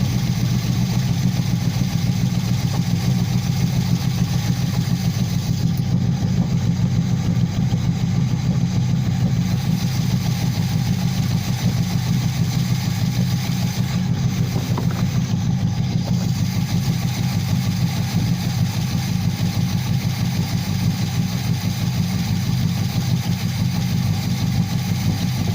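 An Oldsmobile G-Body Cutlass Supreme V8 idles steadily after start-up with its radiator just reinstalled, a loud, close, continuous rumble with a slightly uneven throb that holds for the whole stretch, with no voices.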